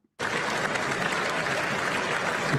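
Dense audience clapping at a State of the Union address, starting abruptly after a brief silence and continuing loud and steady without pause.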